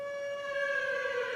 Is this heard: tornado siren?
yes